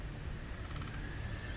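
A horse neighing in the Game of Thrones video game, a short faint whinny rising over low rumbling background, with no talking.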